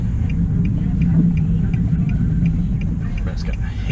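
A steady, loud low rumble of road and engine noise fills the cabin of a moving Nissan G37 Skyline automatic rated around 236 kilowatts, with faint ticking above it throughout.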